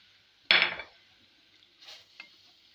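A utensil scrapes and clinks once sharply in a pan while cardamom seeds are stirred into carrot halwa, followed by a couple of softer scrapes; close and alone.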